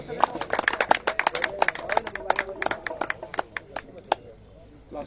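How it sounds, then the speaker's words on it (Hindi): An audience at a volleyball festival welcome ceremony in Shekhawati claps in sharp, uneven bursts, dense at first and thinning out, with a voice talking over it. "करतल ध्वनिया बजती रहे श्री सुभाष जी जोशी के लिए"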